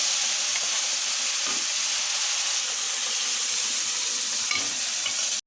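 Whole spices for a vegetarian Bengali ghugni tempering fry in hot oil, a loud continuous sizzling hiss close up, steady throughout with a sharp clatter right at the end.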